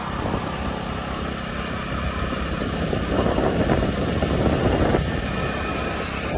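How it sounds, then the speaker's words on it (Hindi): A motorcycle engine runs steadily on a road at night, a continuous close, loud drone that swells slightly louder in the middle before settling, with no voices. "ये हमारी बाइक चल रही है"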